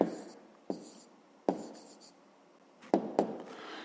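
Someone writing an answer by hand, a few sharp scratchy strokes close by, spaced irregularly with quiet gaps between them and no voices.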